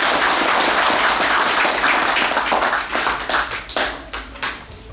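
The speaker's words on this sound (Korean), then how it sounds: "박수로 한번 맞이해 주셨으면 좋겠습니다." A crowd applauds to welcome a speaker at a Korean political speaking event. The clapping starts loud and dense, then thins into scattered, individual claps as it dies away.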